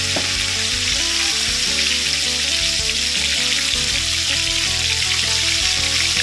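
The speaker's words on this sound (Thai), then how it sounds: "ถ้าทอดไฟอ่อนปลาส้มจะติดกระทะนะคะพี่ๆต้องทอดไฟแรงๆนิดนึงนะคะ" Fermented swai fish sizzles and crackles in hot oil in a pan over high heat, a loud steady frying hiss with small pops throughout and no talking.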